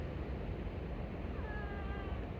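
A cat meows once, a thin drawn-out cry partway through, over steady low road or engine noise at a roadside rest stop in winter.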